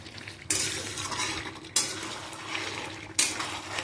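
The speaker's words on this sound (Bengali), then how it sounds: "তো এইভাবে আমি বেশ খানিকক্ষণ ধরেই কিন্তু কষাবো মাংসটা" Mutton is stir-fried in its own rendered fat in a pan, with three loud scraping strokes of a spatula across the metal, each followed by a fading sizzle and clatter.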